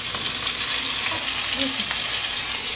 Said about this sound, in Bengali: আগে একটু আলুটাকে ভেজে নিচ্ছি ভালো করে